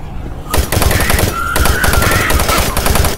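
Rapid gunfire from the sci-fi shooter Doom 3, a dense rattling burst that starts after a brief quiet moment and runs steadily to the end, loud and close with no talking over it.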